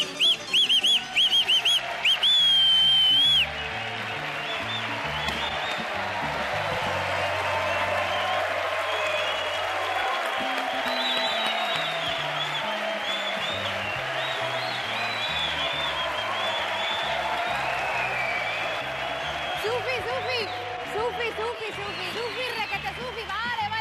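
Studio audience on a Spanish TV game show applauds steadily with sharp whistles over the top, a dense sustained roar of clapping with occasional louder peaks, mixed with music underneath.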